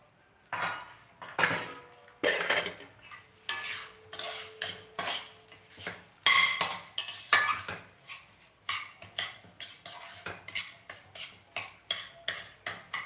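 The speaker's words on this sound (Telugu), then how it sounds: "కొబ్బరికూరు కూడా వేసేస్తాం ఇందులోని వేసేసి దీన్ని వేయించుతాం లైట్గా" Grated coconut being lightly fried with semolina in a pan, a spoon scraping and clattering against the metal in quick, steady strokes throughout, close and fairly loud with no talking.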